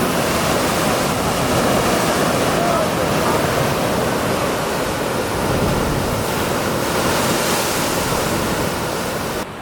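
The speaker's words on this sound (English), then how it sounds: "they crash against this cliffside and it just sprays up water everywhere" Ocean waves crash against a rocky cliffside at Nusa Lembongan, Indonesia, a loud, continuous roar of surging and spraying water that stays near and steady throughout, with no voices.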